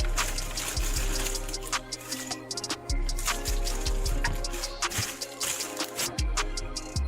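Vegetables being washed under a running kitchen tap, a steady close stream of water splashing with shifting clatter as items are moved beneath it.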